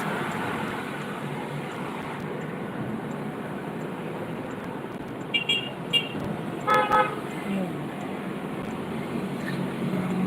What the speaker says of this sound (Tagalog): Traffic po.